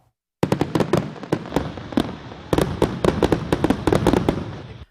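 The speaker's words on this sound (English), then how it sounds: "thousands of fireworks will shoot into the sky overlooking downtown Rockford" Fireworks from a Fourth of July show over downtown Rockford burst in a dense, loud barrage of sharp cracks and booms, some spaced apart and some in rapid clusters, with no talking.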